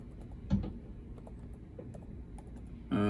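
Sparse, quiet taps on a computer keyboard, a few isolated keystrokes spread across a low room hum before a louder burst at the end.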